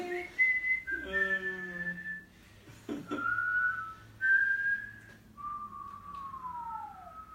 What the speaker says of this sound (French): On va siffler.